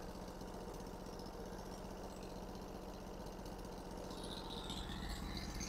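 The engine of a Norwood HD36 sawmill runs steadily at idle, a constant close rumble with a faint rattle throughout and no voices.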